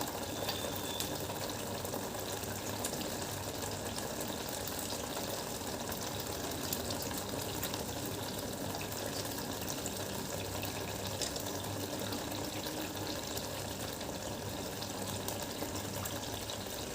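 Tamarind juice, made from 100 grams of tamarind, pours into a Sunday fish curry, giving a steady, continuous wash of liquid sound that runs unbroken throughout and stays fairly even in level.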